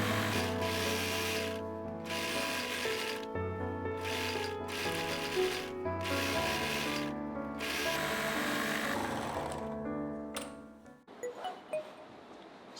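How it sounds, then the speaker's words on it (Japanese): An overlock serger runs along the crotch seam of a scallop-lace skirt-culotte, giving a loud, steady mechanical whirr in several bursts with brief pauses. It stops near the end, leaving quieter handling clicks. "尻ぐりにロックミシンをかけます。"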